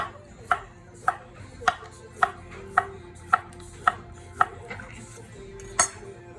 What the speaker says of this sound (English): you can just thinly slice it using your knife